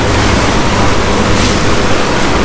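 Big ocean waves roar and rush around a Ranger Tug boat quartering into heavy seas while trolling near the Berry Islands, a loud, unbroken wash of water and wind close to the microphone.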